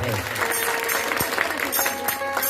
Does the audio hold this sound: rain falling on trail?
no